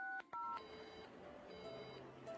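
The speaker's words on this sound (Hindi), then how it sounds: "मैं अपने मोबाइल पर ही फोन करके देखता हूँ।" A handful of electronic keypad tones from dialing a mobile phone beeps out in quick succession, then steady tones hold over a low background hum, fairly quiet overall.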